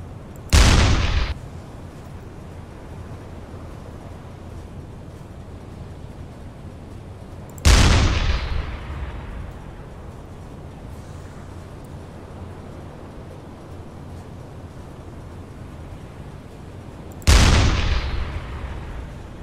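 Three heavy, booming deck gun shots firing HE rounds in the submarine game UBOAT, spaced several seconds apart, each a loud blast with a long rumbling decay, no talk.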